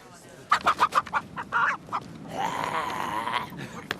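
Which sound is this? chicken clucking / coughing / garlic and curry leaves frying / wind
chicken clucking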